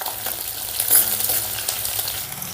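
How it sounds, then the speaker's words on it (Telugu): Chopped green chillies and garlic fry in a hot pan with a steady, close crackling sizzle and a few soft stirring scrapes, with no talking. "ఇప్పుడు ఒక నిమిషం పాటు వీటిని ఫ్రై చేసుకుందాం"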